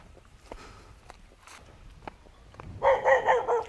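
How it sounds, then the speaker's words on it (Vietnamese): A dog barks in a remote, isolated mountain village, a burst of several quick barks rising near the end after quiet footsteps and faint background sounds. "chó bây giờ làm nào với chó nhỉ"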